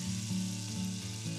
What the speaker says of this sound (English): Going in with a tablespoon of butter. We're going to sweat our onions